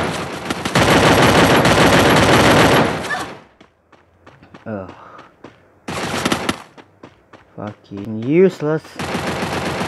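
Rapid automatic gunfire in Free Fire comes in long, loud, dense bursts that break off and resume, mixed with game effects and someone talking.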